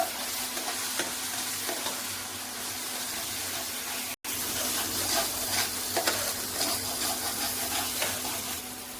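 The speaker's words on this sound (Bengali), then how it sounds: "দিয়ে আমি ভালো করে একটু কষিয়ে নিচ্ছি।" Ground mustard and dry-fruit paste sautéing in a hot pan, giving a steady close sizzle and frying hiss with stirring scrapes throughout, briefly cut off midway.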